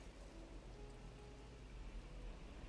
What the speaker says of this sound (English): I assume this place isn't supposed to be raining all the time.